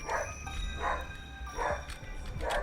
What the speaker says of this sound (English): Is the dog barking because there's going to be a delivery?